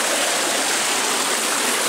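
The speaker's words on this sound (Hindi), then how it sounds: "बहुत प्रेशर वाला पानी है, ज़बरदस्त।" High-pressure water gushes from the 7-inch delivery pipe of a tube well driven by a 20 HP three-phase AC submersible motor, a loud, dense, continuous roar heard close up with no talking.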